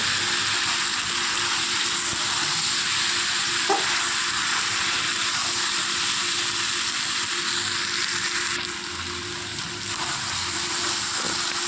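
Fried potatoes are stirred into country chicken frying in a pan, giving a dense, even sizzle throughout with occasional faint scrapes of the spoon, close and steady, no talking.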